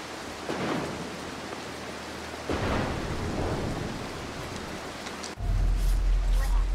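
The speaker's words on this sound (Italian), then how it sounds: "Vedete quanto comincia a rompere i maroni sta cosa dei fulmini?" Thunder cracks and rumbles from a lightning storm in the stealth video game Mark of the Ninja, loud rolling booms over steady rain, with a heavier, closer burst of rain and thunder near the end.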